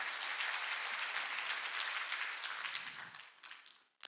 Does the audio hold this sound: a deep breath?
no